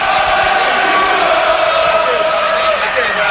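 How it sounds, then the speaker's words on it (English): The home crowd at Villa Park roars during an Aston Villa versus Queens Park Rangers football match, a loud, sustained mass of shouting voices that swells and holds without a break. "The home crowd urging the Queen's Park Rangers team to vacate the penalty area"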